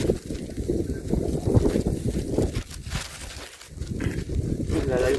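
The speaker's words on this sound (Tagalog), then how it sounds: "Ang lakas ng pagaspas ng hangin." Strong gusty wind roars and buffets the microphone, rising and falling in loud rushes with no break.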